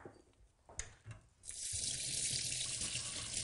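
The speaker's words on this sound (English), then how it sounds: "Just rinse them under cold water." A kitchen tap runs cold water over red lentils in a fine metal sieve, a steady bright rushing splash starting after a few quiet clinks and continuing alone.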